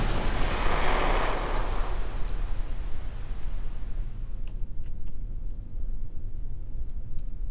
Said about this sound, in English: Gently splash down into the water.